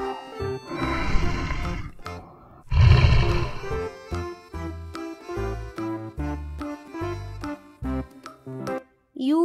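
A tiger roars twice, loud and close, with a deep rumbling growl, then a run of shorter grunting calls that fade at the end, with no speech over them.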